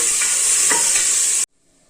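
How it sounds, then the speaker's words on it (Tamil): Ingredients for little millet tomato rice being sautéed, a loud close sizzle of frying with a few stirring scrapes, cut off abruptly into near silence after about a second and a half. "இப்போது எல்லாம் நல்லா வதக்கிக்கலாம்"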